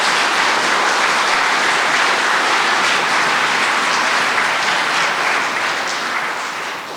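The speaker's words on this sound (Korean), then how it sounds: "감사의 박수를 드렸으면 좋겠습니다" A congregation applauds in thanks to a visiting priest after an Advent lecture, loud sustained clapping from a large crowd that stays dense throughout and eases slightly near the end.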